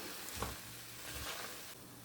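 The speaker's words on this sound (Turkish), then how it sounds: "Semizotu birazcık kavrulsun." Purslane sizzles and crackles softly in a hot pot, releasing its water, with a few scraping stirs and a steady faint hiss.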